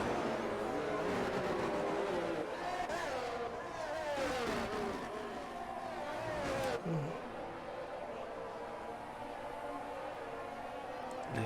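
Race cars in the F1 22 video game at a Bahrain GP2 round take a corner with engines revving up and down, overlapping tones sweeping in pitch, alongside steady background noise and a commentator's voice.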